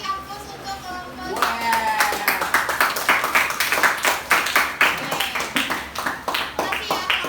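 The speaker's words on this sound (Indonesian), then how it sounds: "Oke, kita beri aplaus untuk kelompok." Classroom students applauding a presenting group, a burst of many hands clapping that starts after a second of quieter talk and keeps an even, lively rhythm to the end.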